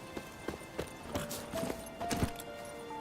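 Roach the horse in Witcher 3 gallops along, hooves clip-clopping in a steady repeated rhythm at moderate distance, with faint ambient tones underneath and no talk.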